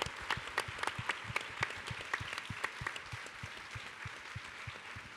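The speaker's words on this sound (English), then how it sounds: "Will you please give a big round of applause for the Leloys, and who made all of this possible?" A keynote audience at a design event applauds the Leloys with rhythmic, evenly spaced clapping, individual claps standing out sharply over a softer bed of crowd applause, moderately quiet and continuous.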